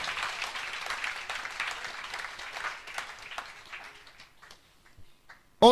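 A church congregation applauds with steady, dense clapping that holds for several seconds and then thins out and fades, with a sharp louder sound at the very end.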